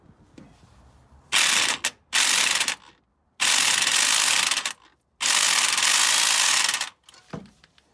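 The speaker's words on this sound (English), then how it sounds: "Didn't matter how much force I put on that impact wrench, that wasn't moving a millimetre." Impact wrench straining against a stubborn pulley nut on a Ferrari 308 engine, firing in four loud sustained bursts of a second or more each, separated by short pauses, with no talk.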